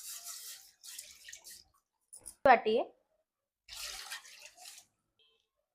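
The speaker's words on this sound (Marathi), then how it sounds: "ज्या वाटीने पीठ घेतलं त्या वाटीने 2 वाट्या पाणी टाकून घेऊ." Water from a bowl is poured into rice flour for butter chakli in a home kitchen, a brief splashing pour between stretches of a person talking.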